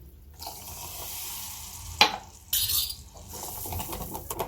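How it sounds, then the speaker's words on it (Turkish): Plain soda water poured into oil in a tea glass for spinach börek, a close, fizzy pouring splash with a sharp clink partway through and brief hissing bubbles, no talk. "çay bardağının yarısına kadar sade soda ilave ediyorum içine"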